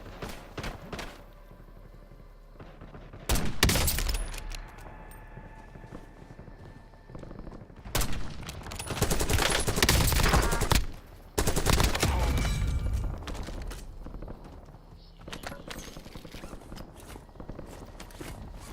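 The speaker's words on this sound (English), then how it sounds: "I'm taking fire." Call of Duty Warzone combat in Verdansk: several loud bursts of automatic gunfire separated by quieter stretches with footsteps and movement, shots sometimes close and heavy, sometimes more distant.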